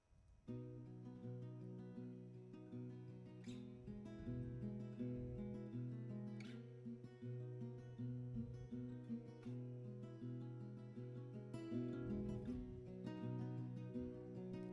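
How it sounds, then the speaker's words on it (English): Clean, unprocessed acoustic guitar strumming and picking chords steadily, warm and full-bodied with natural string ring and occasional sharper strums. "the left and the right channel here of this acoustic guitar part"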